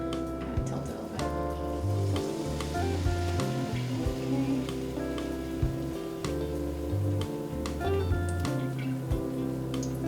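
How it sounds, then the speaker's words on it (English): Chickpea socca batter sizzles in a hot pan for brunch, a steady close crackle heard under background music. "that good sizzle in the pan when you put this down"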